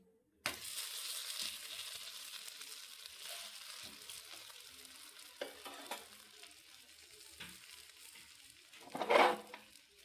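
A crispy tomato and onion dosa sizzles in oil on a pan, the hiss starting abruptly after a brief quiet and holding steady and fairly soft, with a louder scrape near the end.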